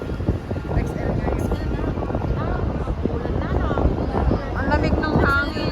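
Cold wind blowing through the streets of downtown Toronto, a steady low rumble buffeting the microphone for the whole stretch and swelling slightly near the end, with voices talking over it.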